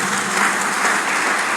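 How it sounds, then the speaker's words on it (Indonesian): Steady, dense applause from a church congregation fills the room, continuous and loud throughout with no voices on top. "Tepuk tangan bagi Tuhan kita."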